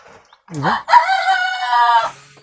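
A single native village chicken on a small farm gives a drawn-out, wavering call close by, a short squawk rising into a sustained crow-like cluck, heard alone with no talking.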